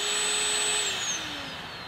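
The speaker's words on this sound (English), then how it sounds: "you'll hear that vacuum is actually running for a couple seconds after the drill stops" The dust-extraction vacuum on a Makita XRH01 18V cordless SDS rotary hammer drill keeps whining steadily and loudly after the drill stops, its pitch slowly sagging as it winds down.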